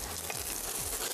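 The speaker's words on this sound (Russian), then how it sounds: "Сначала мы обжарим лук," Onion fries in a preheated pan, giving a steady, close broadband sizzle with faint scraping stirs.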